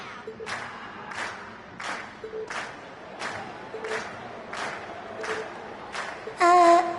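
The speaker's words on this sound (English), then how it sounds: "we've heard your cheers loud and clear." Crowd cheering and applause from the video game Trails of Cold Steel swell in a repeating, rhythmic pattern of bursts, moderately loud, ending in a short bright chime.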